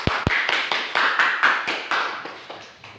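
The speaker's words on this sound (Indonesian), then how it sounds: "tepuk tangan anak." Classroom children clap their hands after a science lesson on human and animal organs, giving a short burst of loud rhythmic claps that fade over about three seconds, close by and with no talking.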